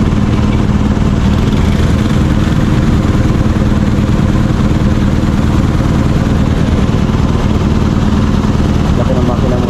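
A BMW engine idles and revs in a steady, loud, continuous drone that fills the whole stretch with a low rumble and no clear breaks.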